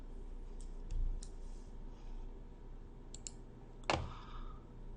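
A few light button clicks on a calculator as figures are entered, quiet and sparse against a low steady hum, with one sharper tap near the end and no talking.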